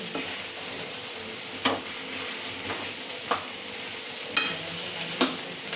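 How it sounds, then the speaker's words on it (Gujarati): Potatoes with green chillies and salt stir-fry in a pan, a faint continuous sizzle with soft spatula scrapes and taps every second or so, no voices. "મીઠું અને લીલા મરચાં એડ કરી અને બરાબર મિક્સ કરી લેશું"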